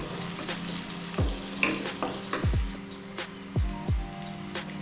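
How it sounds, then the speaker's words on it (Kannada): Onion, garlic, mustard seeds and cumin fry in hot oil with a steady close sizzle, broken by several sharp scraping stirs of a spatula against the pan. "ಅಲ್ಲಿವರೆಗೆ ಚೆನ್ನಾಗಿ ಫ್ರೈ ಮಾಡ್ಕೊಳ್ಳೋಣ."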